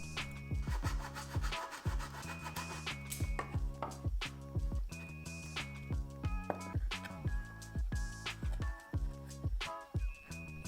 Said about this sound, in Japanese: 次にやっとフレームを切っていきます。